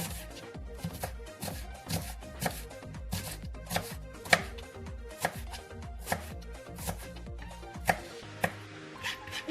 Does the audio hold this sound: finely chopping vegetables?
yes